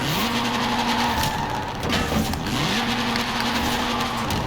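A 1972 Reliant Supervan drifts with its tyres skidding and squealing in long, steady howls over a loud, continuous engine roar, the squeal dipping briefly before resuming close by.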